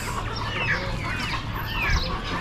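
Several chocolate laced Orpington chickens cluck and murmur continuously at close range at an Amish animal auction, a busy flock chatter with overlapping calls and a steady low background hum.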